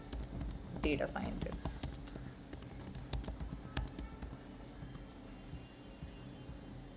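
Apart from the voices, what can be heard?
typing a prompt on a computer keyboard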